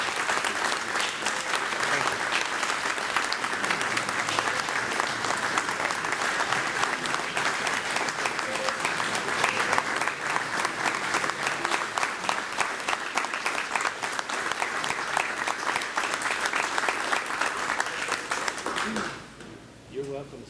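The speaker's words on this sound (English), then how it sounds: "I want you all to give him a round of applause for his work in highway safety" Sustained loud applause from an audience honoring a retiring highway safety officer at a Click It or Ticket press event, continuous dense clapping that fades out near the end.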